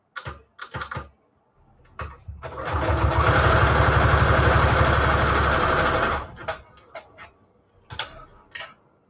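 Sewing machine stitching a zigzag on a scrap-made junk journal embellishment, a close rapid mechanical chatter lasting about four seconds, framed by scattered clicks and handling taps before and after.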